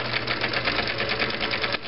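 A Viking Type 21 sewing machine stitching, likely a zigzag stitch run in a needle-position setting, gives a steady, fast, even mechanical whir with a rapid rhythmic clatter, close and continuous for nearly two seconds, then briefly easing near the end.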